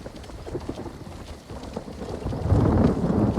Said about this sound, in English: Ah, the sound of thunder.